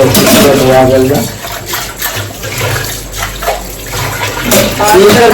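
Running water pours and splashes loudly and close by while things are washed, a steady rushing flow with a voice talking over it.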